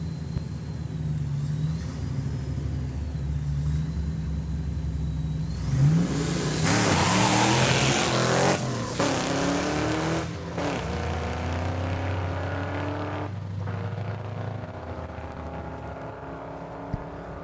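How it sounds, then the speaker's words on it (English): A red Mustang drag racing down the track at Saskatchewan International Raceway roars loudly through its gears, the engine note rising and shifting before fading into the distance while another engine idles nearby. "Watching son Chad go down the track with the red Mustang."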